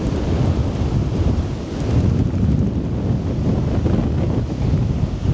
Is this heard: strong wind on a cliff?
yes